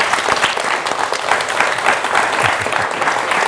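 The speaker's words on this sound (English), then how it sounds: "Please join me in giving another round of a huge applause to our great speakers" A crowd at a New York community event gives speakers a dense, steady round of applause, broadband clapping sustained evenly from start to finish with no voices over it.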